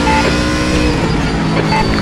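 A GT3 race car runs alongside in RaceRoom Racing Experience at Sonoma, a loud, steady engine drone with faint tire noise that holds close the whole time, with no talking.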